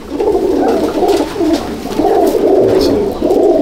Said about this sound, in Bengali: এই এক জোড়া কালদুমা পায়রা শখ করাচ্ছি,